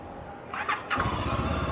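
A Morbidelli T502X motorcycle starts up: a brief squealing starter whine gives way to the engine catching into a low, steady idle rumble, close by and moderately quiet, with no talking.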